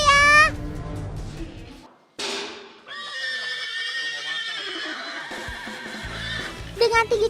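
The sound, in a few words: Andalusian horse neighing in pain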